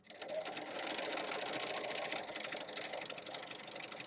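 A sewing machine stitches a narrow one-inch quilt strip at a slow, even pace, its motor whirring steadily and fairly quietly with a continuous fine rattle of the needle.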